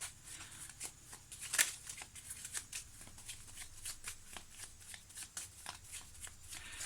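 Tarot cards are shuffled by hand for a reading, making a quick series of close, soft riffling and slapping bursts in a steady rhythm, with one sharper snap early on.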